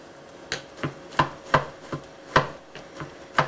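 A knife chops food on a board into tiny rice-sized pieces, with about nine crisp, close strikes in an uneven, steady rhythm and no talking.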